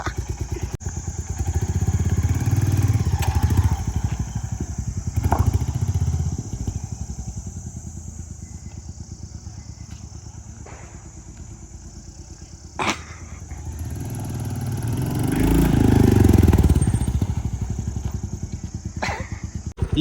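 A motorcycle rides along a rough village path, its engine droning steadily up close, rising and falling with the throttle, while occasional thumps and rattles from the bumpy ride cut through.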